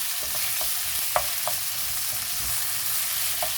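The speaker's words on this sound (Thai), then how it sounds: "คลุกเคล้าผัดให้มันหอมก่อนนะคะ" Blanched mushrooms get tossed in a hot pan, producing a soft continuous sizzle with occasional light scraping taps of a spatula against the pan, fairly quiet and with no speech.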